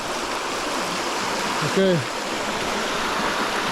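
Swollen river in flood in Slovenia, a steady close rushing wash of water with a short spoken word cutting in briefly near the middle.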